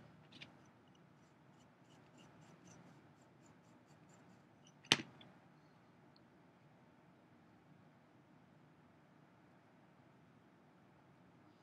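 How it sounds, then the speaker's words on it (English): A tool scratches a handwritten signature into a soft clay tile, producing faint, close, dry scraping strokes with one sharper tap partway through, in an otherwise quiet room. "And then do my little signature, B with a big W."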